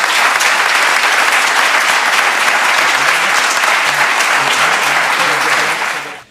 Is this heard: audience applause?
yes